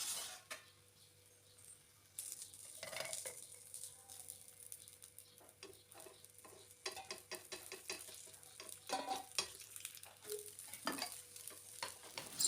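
Crispy dosa, drizzled with oil, cooks on a hot pan with a soft, steady sizzle up close, broken by irregular scraping and tapping of a spatula against the pan.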